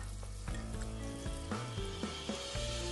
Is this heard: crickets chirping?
no